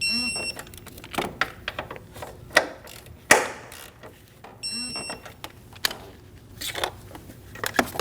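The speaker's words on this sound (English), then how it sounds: "Torque the 4 mount bolts to 60 Newton meters." A torque wrench tightens the transmission mount bolts on a 2012-2022 Volkswagen Passat, giving repeated sharp ratcheting clicks and metallic mechanism bursts in uneven spurts with quiet gaps between them.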